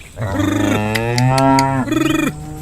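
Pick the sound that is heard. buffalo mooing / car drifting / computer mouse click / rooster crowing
buffalo mooing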